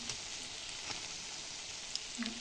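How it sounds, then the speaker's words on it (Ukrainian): Lazy cabbage pies spooned into a pan and frying over medium heat give a faint, steady sizzle with a few soft pops and crackles, with no talk. "На пательню виставляємо ложкою, як звичайні уладки, і смажимо на середньому вогні"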